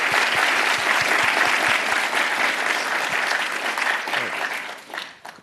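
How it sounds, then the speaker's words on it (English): A seminar audience gives a loud, sustained round of applause after a talk on accessing and analysing social media data, dense clapping that thins and fades out near the end. "let's first give her a round of applause"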